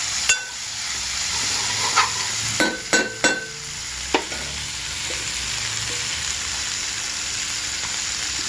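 Mushroom masala curry with mint sizzles steadily in a pan while a spoon scrapes and clacks against it several times, loud and close over a continuous frying hiss.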